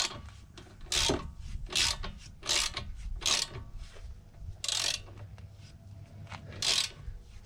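A threaded suspension part on a Mini R50/R53 is tightened with a ratchet. Bursts of clicking and rasping come in a repeated rhythm of strokes, close up, with pauses between them.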